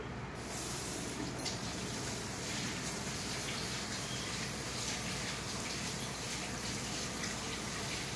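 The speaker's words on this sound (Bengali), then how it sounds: "আমি হাতটা একটু ধুয়ে নিই" A tap runs in a steady, loud, unbroken stream as hands are rinsed beneath it, with no voices throughout.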